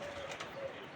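Pigeons coo softly against a faint outdoor hiss, a brief low murmuring call heard quietly at a distance.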